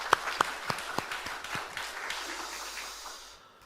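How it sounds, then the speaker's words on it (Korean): A church congregation applauds during a Sunday afternoon dedication service for Sunday school teachers: a handful of sharp separate claps stand out over a softer spread of clapping that fades away toward the end. "영광의 박수를 올려드리도록 하겠습니다"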